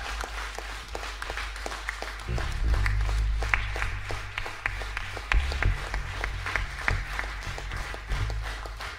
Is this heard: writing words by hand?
no